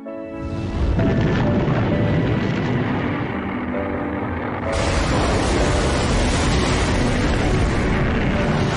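A Titan I rocket explodes on its launch pad after a fuel tank bursts: a loud, sustained roaring blast that swells suddenly partway through and keeps rumbling heavily, with no voices.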